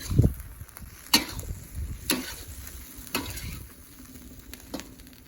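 Chicken marinated in soy sauce, salt and pepper sizzles on a rocket wood stove while camping, a steady soft frying hiss broken by a few sharp ticks and scrapes, with no talking.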